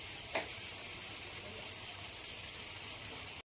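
Water spinach frying in a wok with nigella seeds and crushed garlic, giving a steady, even sizzle and hiss with one brief louder crackle near the start, close and continuous until it cuts off abruptly.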